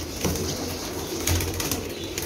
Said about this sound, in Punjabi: ਇਹ ਸਾਡੇ ਸਰਾਏ ਆਲਮਗੀਰ ਦੇ ਕਬੂਤਰ ਨੇ।